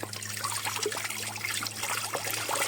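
Water trickles steadily from a tap as hands are washed at a sink near an old cliffside monastery, a soft continuous splashing close by over a low hum, with no speech.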